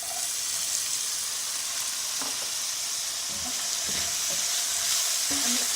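Onions and chickpeas fry in a pan with ginger and garlic paste, giving a loud, constant sizzle with scattered soft knocks and scrapes of stirring, close by.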